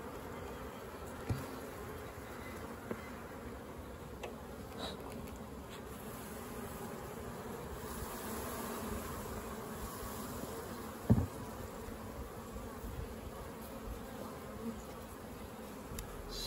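A steady, dense buzzing of many honey bees at an open hive fills the air, continuous and close, with a few soft knocks and clicks.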